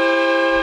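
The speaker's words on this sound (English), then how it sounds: "and you guys just have to hit the horn button." Loud, sustained multi-tone air train horn installed on a 2015 GMC Yukon, a single continuous blast with stacked steady tones filling the whole short clip.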